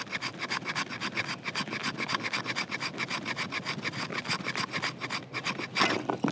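A hunting knife scrapes along a piece of fatwood in fast, steady rasping strokes. The scraping is close and continuous for several seconds with no talking.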